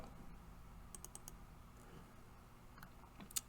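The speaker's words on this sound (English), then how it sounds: "And I'm going to type" Computer keyboard typing while entering an instruction into PLC programming software, a handful of faint, sparse clicks and taps spread over a few seconds in a quiet room.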